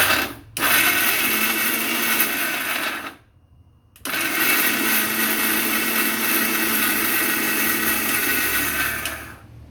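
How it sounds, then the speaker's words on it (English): A kitchen blender coarsely chops shallots and garlic in loud, close whirring bursts, with a brief stop near the start and a longer pause partway through before it runs steadily again. "I'm going to blend them, just a rough blend"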